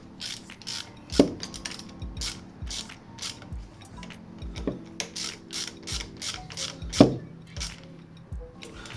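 A clamp on a Vauxhall Agila brake pipe being tightened for flaring, giving close metallic ratcheting clicks and clinks in irregular bursts with a couple of louder knocks.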